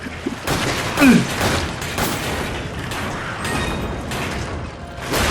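Gunfire from the co-op video game Resident Evil 5 rings out in repeated sharp bursts, spread irregularly over several seconds against a busy game soundscape.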